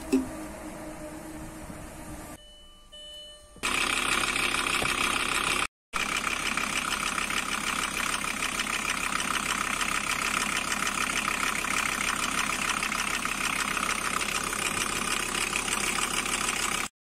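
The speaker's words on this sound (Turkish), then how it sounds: "Aracı yaklaşık 20 dakika boyunca rölantide çalıştırdım." A car engine idles steadily after a dishwasher tablet was added to its coolant reservoir, giving a constant close mechanical drone with a quieter stretch near the start and one brief dropout, without speech.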